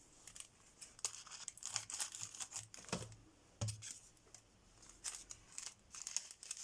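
A package being cut open by hand, with close crinkling of plastic or paper and small snips and clicks in an irregular, quiet patter, no voice over it.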